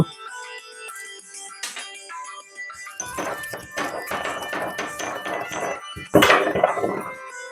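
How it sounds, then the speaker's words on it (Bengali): Four cardamom pods are crushed into powder for a carrot patisapta batter, a series of sharp pounding knocks and clinks, sparse at first and then rapid and close, with one louder strike near the end. "আমি 4টে এলাচ নিয়েছি, এটাকে গুঁড়ো করে এর পাউডারটা আমি ব্যাটারে মিশিয়ে দেব"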